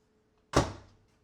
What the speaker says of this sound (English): Close the door, test it out, and there you go.